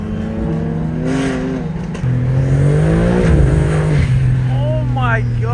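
BMW M3 G80 engine revving and pulling hard from inside the moving car, a loud close growl that jumps in pitch and surges while occupants talk excitedly over it.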